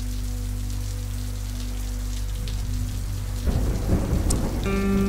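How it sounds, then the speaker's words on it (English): A thunderstorm with heavy rainfall and damaging winds rolls in, with steady loud rain hiss and low rumbling thunder that swells midway, no voices present. "thunderstorms producing heavy rainfall and damaging winds in excess of 60 miles per hour were headed toward Liberty"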